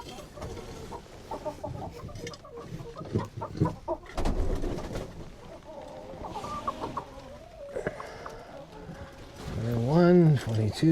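Chickens cluck and coo inside a farm coop during egg collection, a mix of close and softer calls with a louder squawk near the end, while a person talks over them.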